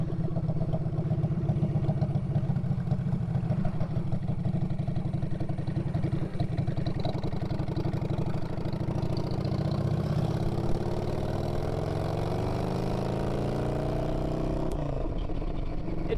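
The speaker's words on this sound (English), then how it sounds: "It sure makes a lot of noise with that very almost non-existent exhaust." Orange County Chopper motorcycle with an almost non-existent exhaust idles loudly and steadily throughout, a dense low rumble with a slight change in tone near the end.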